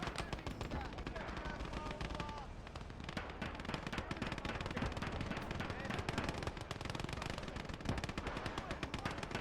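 Continuous rapid machine-gun and rifle fire from the World War II strategy game Call to Arms Gates of Hell, set in the Winter War, crackles in dense overlapping bursts with heavier thuds, loud and steady throughout, with someone speaking at times.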